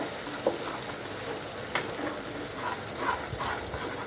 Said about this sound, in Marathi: वाटलेलं मिश्रण सगळं त्यामध्ये आपण भाजून घेऊया छान असं हलवून घ्यायचं